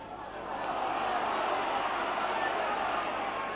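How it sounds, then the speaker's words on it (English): A rugby league stadium crowd at Leeds versus Oldham swells into a loud, sustained roar after a tackle, with a broad murmur rising and holding steady at a distance. "Crowd urging that something happened in the tackle there"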